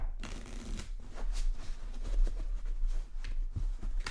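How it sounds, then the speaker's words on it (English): A deck of playing cards is shuffled up close during a blackjack game, with crisp riffling bursts and soft flutters repeating in quick succession, quiet and intimate. "at the start of play, as we said, the deck is shuffled."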